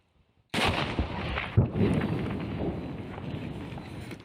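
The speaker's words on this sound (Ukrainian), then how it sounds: "Постріл!" A single loud artillery-style gunshot from a military unit's ranging fire bursts out after a brief silence, followed by a rolling, echoing boom that slowly fades into outdoor ambience.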